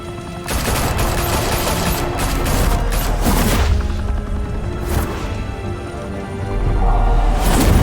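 Heavy gunfire in Batman: The Telltale Series video game, a loud, sustained barrage of rapid overlapping shots with crashes and thuds mixed in. It swells again near the end.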